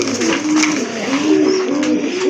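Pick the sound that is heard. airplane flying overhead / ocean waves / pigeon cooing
pigeon cooing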